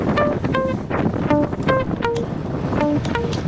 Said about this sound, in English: we've been on the road for a while, dealing with this wind pounding us